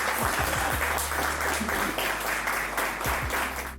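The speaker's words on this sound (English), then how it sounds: "So I want you all to give a round of applause." An audience at a panel discussion applauds, a dense continuous wash of many hands clapping that holds steady for several seconds before easing slightly, with no voices on top.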